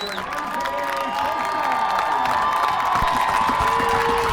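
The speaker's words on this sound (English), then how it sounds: "the crowd celebrating heavily after that one" A high school varsity football crowd, MKA versus Hackley, cheers and applauds steadily after a first down, a broad, sustained roar of voices and clapping from the stands.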